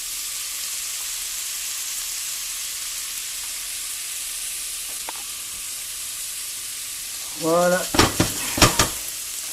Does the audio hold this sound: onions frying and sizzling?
yes